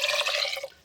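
Water saved from washing rice being poured in for cooking dal: a short, close splash and trickle of liquid that tapers off quickly.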